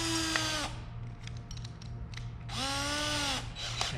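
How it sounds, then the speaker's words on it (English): Drill motor with a hole-cutting bit spins up in two whining bursts, dropping to a quieter stretch of cutting and grinding between them, close and loud with no talk. "And now you can drill a hole however big this end is."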